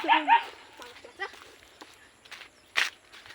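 A dog gives a couple of quick barks near the start, followed by scattered footsteps and faint rustling in a quiet outdoor space.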